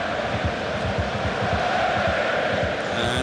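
Borussia Dortmund and Hamburg supporters fill a football stadium with a loud, dense, continuous roar and chanting, a broad wash of crowd noise with no clear individual voices.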